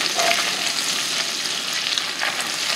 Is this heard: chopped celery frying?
yes